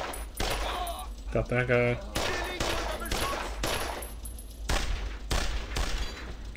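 Rapid bursts of gunfire from the video game Brothers In Arms: Road To Hill 30, sharp repeated shots in short volleys, while a player talks over the action.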